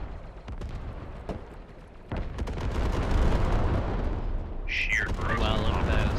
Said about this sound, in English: Wow, look at that. That's an orbital strike.